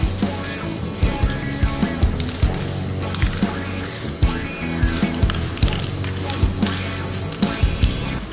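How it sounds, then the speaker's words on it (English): Aerosol adhesion promoter sprayed onto car parts being prepped for paint over chrome, a close, loud hiss in short repeated bursts with small clicks between passes. "I'm going to spray with an adhesion promoter"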